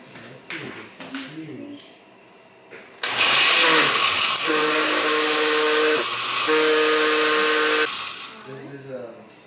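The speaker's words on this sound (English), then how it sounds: "And then just blend it. Okay, so blend it up." A kitchen blender whirs loudly as it purees peppers with chicken bouillon for pozole, starting abruptly after people chat, with the motor pitch shifting mid-run before it cuts off and talking resumes.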